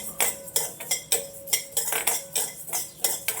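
Coriander seeds dry roasting in a pan while a metal spoon stirs them, giving a rhythmic series of scraping clinks about every half second, close and fairly loud, with no talk.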